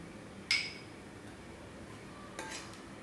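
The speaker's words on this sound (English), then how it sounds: "So I'm just going to give it a quick mix." A spoon clinks once sharply against a bowl while bajra, sattu and ragi flours are stirred together, followed by a softer scrape a couple of seconds later, close and otherwise quiet.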